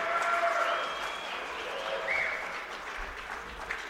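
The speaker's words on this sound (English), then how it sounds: "how about a round of applause for both of these warriors?" A boxing crowd applauds both fighters at the end of a four-round welterweight bout, a steady wash of clapping with faint whistles and cheers, fairly distant.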